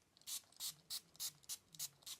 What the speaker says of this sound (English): Oh, that's a very nice spritz.